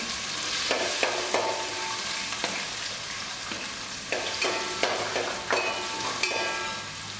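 Mustard seeds, cumin and onion fry in hot oil for Chettinad chicken masala, a steady close sizzle broken by sharp crackling pops at irregular intervals, with no voices.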